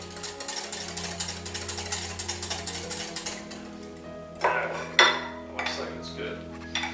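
Quiche egg mixture whisked in a bowl until frothy, a steady brisk scraping and clinking of whisk against the dish, close and fairly loud, with a few sharper knocks near the end.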